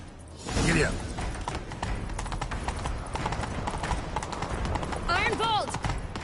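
Galloping horse hooves clip-clop steadily during a chase in The Witcher 3, close and loud, with a horse whinny near the start and another near the end, amid game sound.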